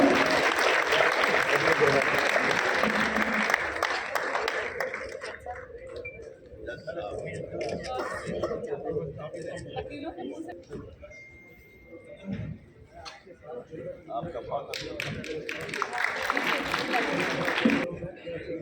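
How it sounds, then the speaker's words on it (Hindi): Steady applause from an auditorium audience gathered to welcome guests at a political event, loud at first, then thinning as an amplified voice speaks over it, and swelling again near the end. "अरे जोरदार तालियों से स्वागत तो कीजिए।"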